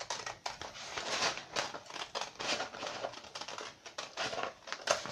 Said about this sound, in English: And take and cut on the line.